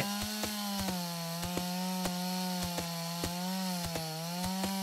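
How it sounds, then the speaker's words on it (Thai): A saw cutting down a tree in the video game Longvinter, steady rhythmic rasping strokes repeating at a regular pace over a constant droning hum, no talk. "คลิกขวาตัดต้นไม้"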